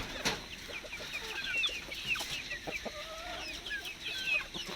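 Aseel and native chickens on a farm cluck and chatter in short, scattered calls, some near and some farther off, with no talk over them.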